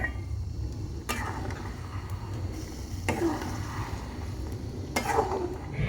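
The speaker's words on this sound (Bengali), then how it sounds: "এবার ঢাকনাটা খুলে একটু নাড়িয়ে দেবো" Food being stirred in a small pan after the lid comes off, soft spoon scrapes and clinks repeating every couple of seconds over a low background sizzle, quiet and close.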